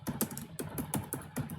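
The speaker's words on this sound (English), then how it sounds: "First I am typing one program" Keys clacking on a computer keyboard as a short C program is typed, a quick uneven run of close, crisp taps with no talk.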